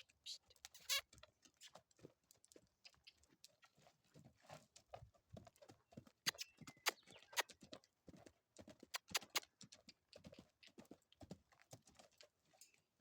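A horse canters on sawdust shavings laid over road base, its hoofbeats landing in quick, irregular clusters of dull thuds close by, with faint talk and small rustles between the strides.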